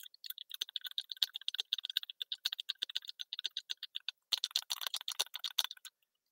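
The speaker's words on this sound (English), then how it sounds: "Clicking on the plastic." Metal chatterbait blade fixed to the line tie of a plastic lipless crankbait, clicking rapidly against its body in dense irregular bursts with a short pause, close and crisp, no talk.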